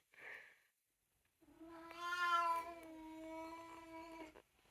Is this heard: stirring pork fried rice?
no